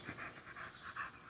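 A dog pants close by in quick, even rhythmic breaths, steady and moderately loud throughout, with no voices.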